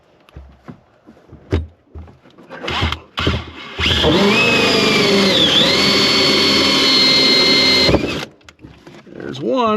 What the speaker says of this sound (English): we're going to drill one hole at the bottom of the bend and one hole at the top of the bend